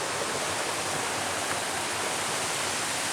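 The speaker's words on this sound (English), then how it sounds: "I see there is another waterfall over here across" Steady broadband rush of a waterfall beside a forest trail, continuous and fairly loud with no breaks or voices, a constant wash of falling water heard from nearby.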